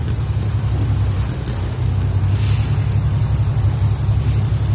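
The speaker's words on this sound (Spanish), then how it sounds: "Hay que tener cuidado porque esto es una calle de mucho tráfico." Street traffic on Calle Mazón in Havana, Cuba: a close, heavy engine rumble drones steadily, with a hiss of road noise and no voices.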